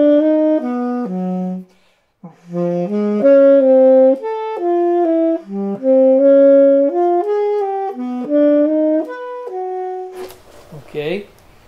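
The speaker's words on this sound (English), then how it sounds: "those are major triads in random inversion with half step in between" Major triads in random inversions stepping by half steps are played as a fast, legato melodic line of sustained tones, loud and close, breaking into a breathy noise near the end.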